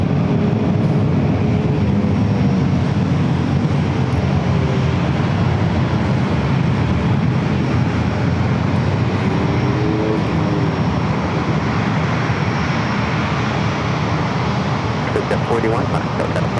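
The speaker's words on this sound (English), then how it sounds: "Lufthansa flight 467 and A350 900 should be the next takeoff." A Lufthansa Airbus A350-900 takes off from San Diego airport, its jet engines producing a steady, loud broadband roar throughout, with voices talking faintly in the background.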